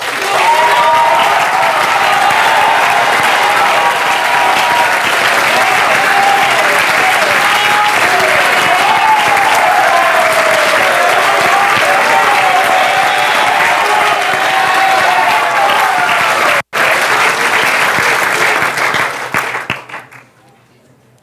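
A school prize day audience in a hall gives long, loud, sustained applause. The dense clapping continues steadily for about twenty seconds and then tapers off quickly at the end.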